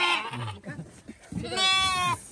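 Goats bought at a hillside farm bleat several times in close succession, loud and near, with wavering, nasal cries and brief gaps between calls.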